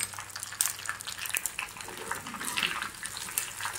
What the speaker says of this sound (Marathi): तडका पॅन मध्ये 3 ते 4 चमचे तेल टाकलेलं आहे। त्याच्यात आपण कढीपत्ता, 1 चमचा मोहरी आणि 2 ते 3 तुकडे मिरचीचे केलेले आहेत।